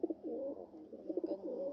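Pigeons in a loft coo in two close, rolling bursts, soft and near, with a faint chirp near the end.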